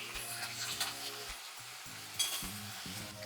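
Hadga flower vegetable sizzles faintly in a pan while being stirred, with soft scraping strokes over a steady frying hiss, close and quiet, no speech.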